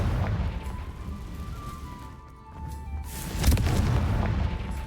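Confringo fire spell blasting in the video game Hogwarts Legacy, heard as a loud booming explosion with a rumbling tail and a second sharp burst near the end, set over continuous low game ambience.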